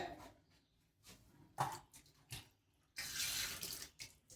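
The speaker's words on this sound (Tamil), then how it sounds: "கையும் வாஷ் பண்ணிட்டேங்க" Tap water runs into a sink as hands are washed, with brief splashes early on and then a steadier, louder rush of water in the final second and a half, close by and with no talking.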